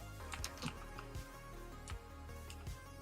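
Rapid clicking of a computer keyboard close to a microphone during a Minecraft gaming session, irregular keystrokes with a few sharper, louder taps standing out over a quiet background hum.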